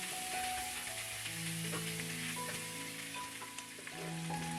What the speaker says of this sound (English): We're going to pan-sear the ribs first.